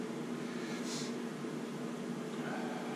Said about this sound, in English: I'm sorry if you can hear the fan heater